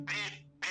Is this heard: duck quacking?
yes